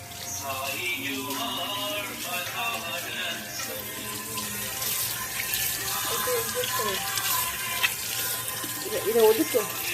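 A tap runs steadily while hands are washed at a sink outdoors, a continuous splashing flow lasting throughout, with a voice speaking over it and a sharper splash near the end.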